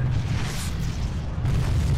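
A loud, deep explosion boom rumbles continuously in an SCP animated series, with a heavy low-end roar that swells again near the end.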